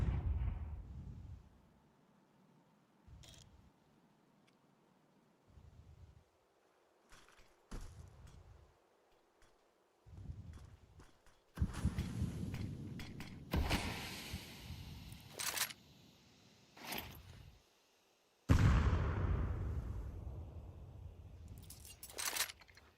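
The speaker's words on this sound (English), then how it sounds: "Nice frag grenade" A frag grenade exploding in Counter-Strike 2, one of several sharp blasts and bursts of gunfire scattered between quiet gaps, with a big boom near the end.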